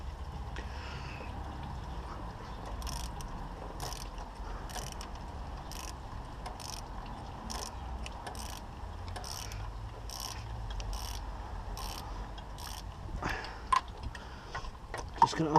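Repeated ratchet clicks from an 8mm socket undoing thermostat housing bolts on a Vauxhall Zafira, a steady run of close, even ticks over a low background hum, growing a little louder near the end.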